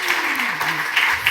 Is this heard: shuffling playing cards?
no